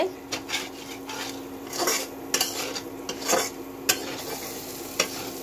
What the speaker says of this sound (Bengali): এই যে পেঁয়াজ মরিচ ভালোভাবে ভেজে নিচ্ছে